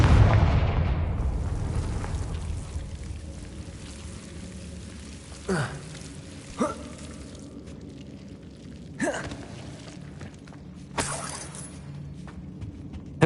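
Confringo spell explosions in Hogwarts Legacy: a big fiery blast at the start decays away, followed by several sharp, separate impact cracks spaced a second or two apart over quiet game ambience.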